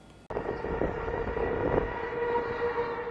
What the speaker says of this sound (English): The siren warns of a looming tornado.